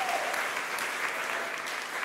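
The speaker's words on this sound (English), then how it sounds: "So round of applause for her." Loud, dense applause from the audience at a school choir recital, continuous and even throughout with no pauses, filling the room close to the recorder.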